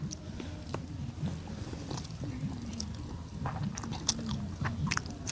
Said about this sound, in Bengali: তা আমি এখন খাই গরম গরম ভাতের সাথে গরম গরম